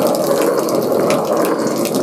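A stone grinding machine running with water poured onto the stone gives a steady wet, rushing grinding noise, moderately loud and continuous throughout the short stretch, with no talk.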